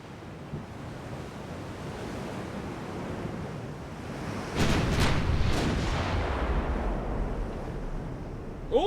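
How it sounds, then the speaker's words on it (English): Main gun salvo from a Royal Navy dreadnought-type battleship in a naval combat game: a sudden loud booming burst with several quick overlapping blasts, followed by a long rumbling decay over a steady wind-and-sea background. "Oh, good lord, that was a first salvo hit."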